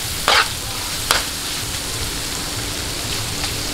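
Shrimp stir-fry in a hot pan, giving a steady sizzle with a couple of sharp scraping stirs near the start.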